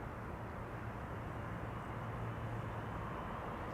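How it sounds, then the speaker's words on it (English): An Emirates Airbus A380 on the runway at Schiphol, a steady low engine roar with a constant rumble, heard from a distance and fairly faint, with no voices. "It means even the A380 is coming to our runway."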